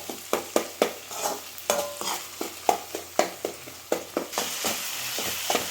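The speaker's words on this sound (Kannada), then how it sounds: "ಚೆನ್ನಾಗಿ ಮಿಕ್ಸ್ ಮಾಡ್ಕೊಂಬಿಡೋಣ." A spoon scrapes steadily through chicken liver gravy with tomato, onion and spices in a frying pan, making a regular rhythm of close scraping strokes over a soft sizzle.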